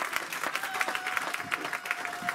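A church congregation claps together in quick, steady applause during a service, loud and continuous throughout.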